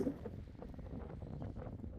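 Strong wind on the Ganos Mountain summit in Turkey, above the clouds, buffets the microphone in a continuous low, rumbling roar with slight gusting fluctuations and no other clear sounds.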